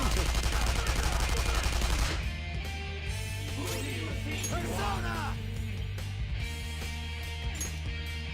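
Rapid automatic rifle fire in the video game Persona 5 Royal, a dense loud burst for about two seconds, followed by game music and sound effects.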